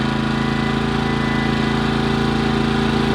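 Craftsman 2200 watt generator running steadily, a loud continuous engine hum with a fast pulsing throb and tonal whine, unbroken throughout with no talking.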